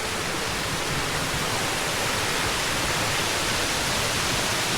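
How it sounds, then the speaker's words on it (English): A small waterfall along the Appalachian Trail pours in a loud, unbroken broadband rush, close and steady throughout with no other sounds breaking through. "And nice little falls there."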